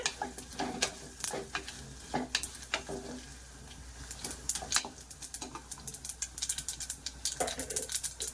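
Chana dal and cabbage curry with asafoetida frying in a pan, with a soft sizzle under repeated close scraping and clinking of a spatula stirring the mixture.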